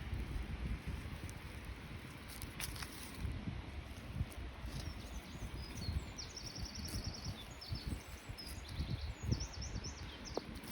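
Birds chirp and trill faintly in the distance over steady outdoor wind and rustling noise while potatoes are planted, with scattered calls coming and going.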